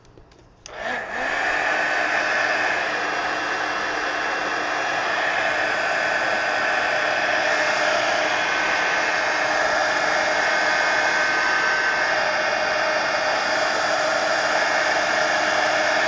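A hair dryer switches on and runs continuously to dry paint on an altered book page, a loud, steady whooshing roar held close for the whole stretch without any talking.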